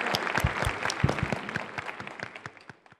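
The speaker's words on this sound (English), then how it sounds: "please give a warm round of applause to welcome the Honorable Governor of the State of Veracruz" An audience applauds to welcome the Governor of the State of Veracruz at a formal event, with dense, fairly close clapping and a few sharp individual claps that gradually thin and fade over three seconds.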